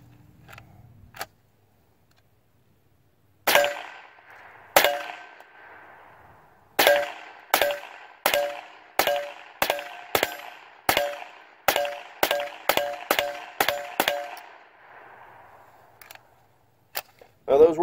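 A series of loud, sharp supersonic gunshots ring out one after another with ringing metallic tails, irregular at first, then in a rapid steady sequence.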